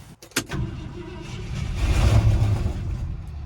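An old Ford F-100 truck that sat for years cranks briefly and catches, then its engine settles into a rough, rumbling idle. The sound is close and clear, with no voices.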